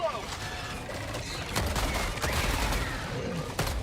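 Rapid bursts of gunfire crackle in the video game Helldivers 2, dense overlapping shots with heavier booming thumps, moderately loud in an ongoing firefight.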